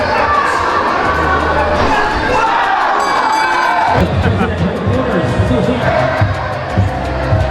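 A boxing crowd at a WBO championship fight roars and cheers loudly and continuously, a dense wash of voices with a swell partway through.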